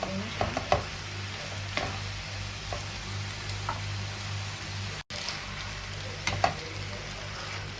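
Young liang leaves stir-fried in a hot pan over high heat, a soft continuous sizzle with occasional scraping strokes of a spatula, steady and fairly quiet with no talking.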